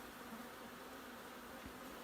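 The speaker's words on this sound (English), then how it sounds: "Good many bees in there." Colony of honey bees buzzing inside a house wall cavity, the bees calm and gathering toward a light; a steady, faint, even drone holds throughout with no voices.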